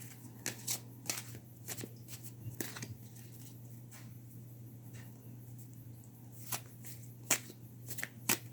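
A tarot card deck being shuffled, with soft riffling bursts repeating in an uneven rhythm over a steady low hum, close and fairly quiet.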